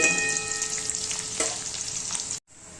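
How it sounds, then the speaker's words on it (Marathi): Green chilies sizzle steadily in hot oil in a pan while potato poha is being made, a close, continuous frying hiss with faint stirring scrapes, cutting off abruptly near the end. "हिरवी चिली आहे ना जरा थोडी फ्राय होऊन द्यायची आहे."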